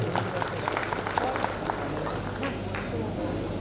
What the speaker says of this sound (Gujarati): જેટલાએ અનુસરવી છે એમના માટે પણ જોરદાર તાળીઓ